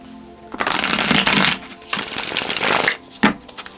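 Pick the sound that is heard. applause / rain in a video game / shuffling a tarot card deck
shuffling a tarot card deck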